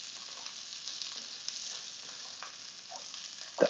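Onions frying in a pan while Arctic char with green peas is being cooked, producing a soft, steady sizzle with faint stirring scrapes and a brief louder clatter at the very end, no voices.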